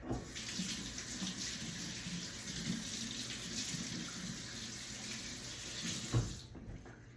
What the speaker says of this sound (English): I'm just gonna rinse off real quick.